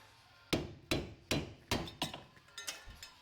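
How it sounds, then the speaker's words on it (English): Hammer blows striking the outer tie rod stud on a 2001-2010 Chrysler PT Cruiser during replacement, about eight sharp metallic hits at a steady rhythm, close and loud with no talking. "we can go ahead and hit it directly on the stud"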